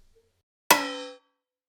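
A single bright metallic clang rings out from a struck metal keg used as a drum sample, a hard attack followed by a shimmering decay that fades within half a second.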